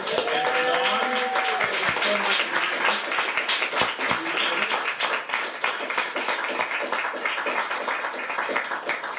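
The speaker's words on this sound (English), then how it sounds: "Can we have a big round of applause for our panel?" Audience applause for a panel at an audiobook event, moderate clapping from a room of people with some whistles and cheers early on, gradually settling into steady hand claps.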